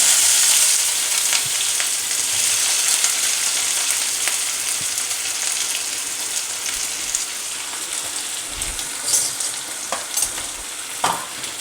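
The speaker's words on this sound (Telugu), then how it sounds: "ఇప్పుడు దాంట్లోకి మనం ఈ తరిగిన ఉల్లిపాయ వేసుకుందాం." Chopped onions hit hot oil with tempering seeds for a dhaba-style egg keema, giving a loud, continuous sizzle with scraping stirs and no talking.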